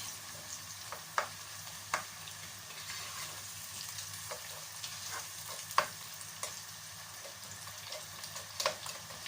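Chopped onion fries gently in a pan as the base for a Ghanaian salted tilapia and eggplant stew, a soft steady sizzle with occasional faint clicks of stirring, close and quiet, no talking.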